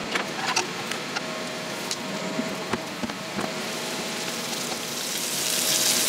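Eggs frying in a hot pan over fairly high heat, a constant crackling sizzle with scattered sharp pops, rising slightly toward the end and heard alone.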